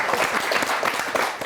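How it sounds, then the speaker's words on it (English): A festival audience gives a round of applause, dense sustained clapping filling the whole short moment, close and fairly loud with no speech over it. "Can I give you a round of applause as well?"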